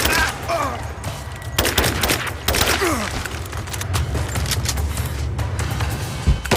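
Gunfire in the video game Rise of the Tomb Raider, scattered shots and bursts with booms amid a continuous low rumble, with shouted voices briefly mixed in.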